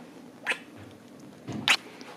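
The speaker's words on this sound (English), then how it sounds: "Hi, Kitty" A house cat meows twice, two short, fairly close calls about a second apart, with quiet room noise between them.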